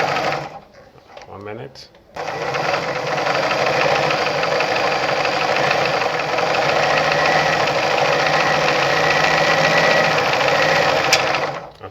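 Brother ZU2-B680 sewing machine winding a bobbin, a steady loud mechanical whir that starts after a short pause and runs continuously to the end, with a person talking briefly near the start.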